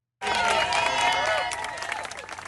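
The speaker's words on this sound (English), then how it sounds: "more than a clapping out for departing colleagues" Colleagues outside the US Centers for Disease Control clap out departing CDC staff, a sudden burst of dense applause and crowd noise that starts loud, then slowly thins, with voices mixed in.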